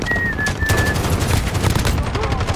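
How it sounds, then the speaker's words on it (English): Holger light machine gun from a first-person shooter game at the Shoot House map, heard as dense, loud, continuous rapid-fire bursts rattling steadily for a couple of seconds, with a brief whistle-like tone at the start. "Holger light machine gun."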